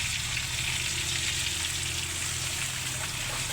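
Pot boiling on the stove while crab and fried chicken cook, a dense continuous bubbling and sizzling hiss, steady and close throughout.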